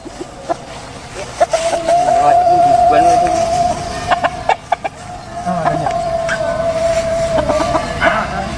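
Chickens squabble and cluck near a family preparing a qurban sacrifice, sharp wing flaps and squawks punctuating a sustained tonal cry, with people talking throughout.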